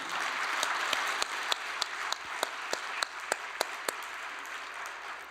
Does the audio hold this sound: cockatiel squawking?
no